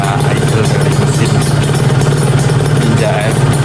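Kawasaki Ninja R two-stroke motorcycle engine idling steadily, a close, constant low hum with faint mechanical clatter throughout, and some background voices.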